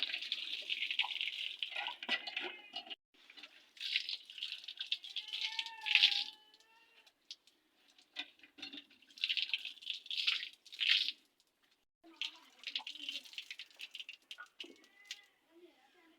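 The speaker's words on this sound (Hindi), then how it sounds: "ये बहुत ही ठंडा पानी निकल चुका है, नलके को इस्तेमाल कर रहे हैं" Water gushes and splashes in repeated bursts as a village hand pump is worked, with creaking and rattling between strokes and a voice speaking nearby.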